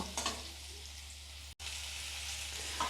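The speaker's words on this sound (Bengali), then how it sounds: "এইভাবে পটলগুলিকে ভালো করে ভাজতে হবে" Pointed gourd (potol) fries with turmeric in hot oil, making a constant close sizzle with a faint low hum beneath and one brief dropout midway.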